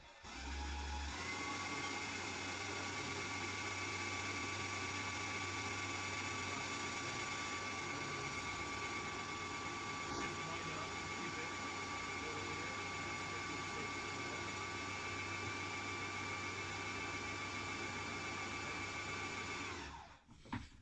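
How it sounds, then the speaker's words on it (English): A Graco airless paint sprayer runs its fast flush system with water, giving a steady motorized whine and hum that starts abruptly, holds evenly for about twenty seconds, then cuts off. "And now I'm using this flush system, fast flush system."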